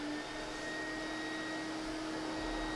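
Lindhaus HF6 vacuum cleaner running steadily at close range, a constant motor hum and airflow whine with a fixed tonal pitch, unbroken and alone with no voices.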